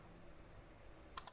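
Two quick, faint clicks of a computer mouse in a quiet room during CAD drafting work, coming near the end of a short near-silent stretch.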